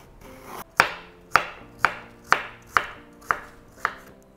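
A kitchen knife cuts the seeds out of zucchini for Soviet-style zucchini caviar, striking a cutting board in seven sharp, evenly spaced chops with quiet scraping between them and no talking.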